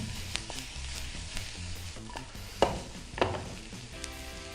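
Chicken frying Andhra style with betel leaves in a pan, giving a soft steady sizzle with occasional light stirring clinks and scrapes, heard alone and fairly quiet.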